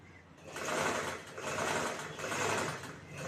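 A sewing machine stitching a blouse neckline runs in a close, steady whir that swells and eases in three surges, no talking.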